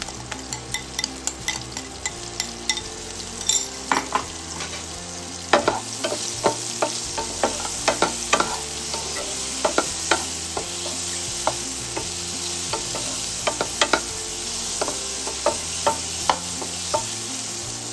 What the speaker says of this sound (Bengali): ডিমগুলো একদম সেজে গুজে বসে আছে এবার এগুলোকে একটু ফ্রাই করে নিচ্ছি